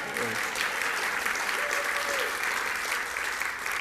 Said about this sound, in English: applause, applause, applause, applause